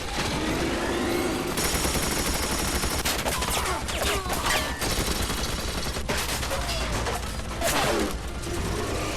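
Sustained hip-fired assault rifle gunfire in the video game Resident Evil Operation Raccoon City, dense rapid bursts filling the whole stretch with crashing impacts and no pauses.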